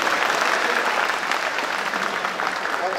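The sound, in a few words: audience applause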